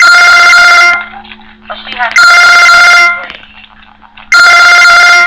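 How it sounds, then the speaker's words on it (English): A telephone rings in three loud, sustained electronic bursts separated by pauses of roughly a second, with faint background sounds in the gaps between rings. "phone rings."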